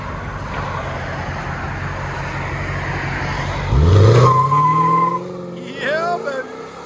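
A 1999 Lexus GS 400 with a 4.0L V8, dual exhaust and Valvetronics mufflers, valves closed then open, idles steadily before a loud rev swells and falls away, with brief throttle blips after as a voice speaks over it.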